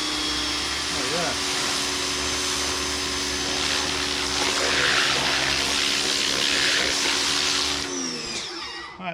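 Greenworks 1800 psi electric pressure washer spraying water at close range, a loud continuous hissing rush over the motor's steady hum that cuts off near the end.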